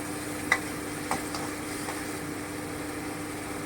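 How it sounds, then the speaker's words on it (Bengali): Mutton liver stirred in a pan over a medium gas flame, a faint continuous sizzle with a few light spoon scrapes and clicks, no talk. "এবার আমি একটু নেড়ে নেব"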